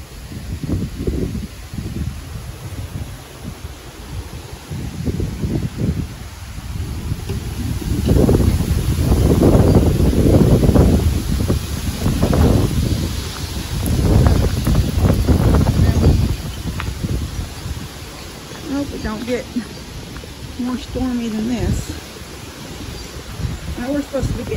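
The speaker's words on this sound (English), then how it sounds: "It's windy." Strong gusty wind ahead of a thunderstorm at dusk roars across the microphone in loud, surging waves. A person talks over the noise at times.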